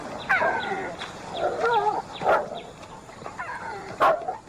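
A dog gives several short yipping barks in bursts, close and fairly loud, with quiet gaps between them.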